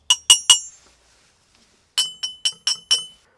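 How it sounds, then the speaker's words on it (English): Bright metallic pings from tapping on the side of a brass Trangia-style stove, three quick strikes, a pause, then five more, each ringing briefly before fading. "let's do a little sound test on the side of these just to see how dense the actual brass is"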